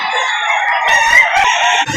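Rooster crowing close by at a Lipa City, Batangas poultry market, one loud drawn-out call filling the short moment with some background noise.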